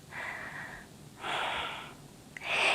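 Three slow breaths during a yoga exercise, each a soft airy inhale or exhale with pauses between, close and quiet, with no talking.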